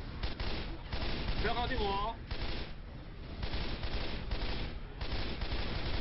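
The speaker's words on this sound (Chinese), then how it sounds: "你怎么朝着我的方向开枪？" Rapid gunfire in the video game Left 4 Dead 2, with sharp bursts of shots in quick succession under and between excited talking from players.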